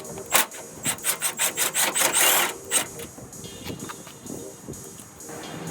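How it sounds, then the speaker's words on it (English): A bolt holding the top pad is worked loose on a 2007 Toyota Tundra, heard as a close run of quick, rhythmic ratchet clicks followed by fainter scraping and handling noises. "Taking off this bolt right here for the top pad."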